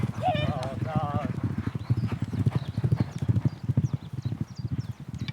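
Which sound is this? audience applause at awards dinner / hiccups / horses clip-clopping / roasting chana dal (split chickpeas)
horses clip-clopping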